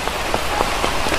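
Steady rain falls near a stream where a fish trap is set, a dense, loud, continuous hiss of drops with soft patters throughout and no voices.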